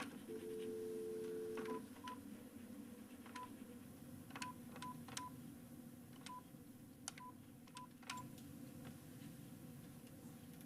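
A telephone number is dialed on touch tones: a steady tone sounds briefly, then around a dozen short beeps follow at an uneven pace, fairly faint, over a quiet room hum at a board meeting.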